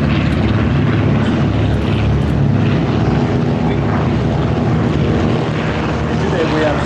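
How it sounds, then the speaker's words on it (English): Six de Havilland Dragon Rapide biplanes take off at Duxford, their piston engines and propellers producing a loud, sustained, broadband drone that holds steady throughout, with a voice speaking over the engine roar. "just watch 6 de Havilland Dragon Rapids taking off"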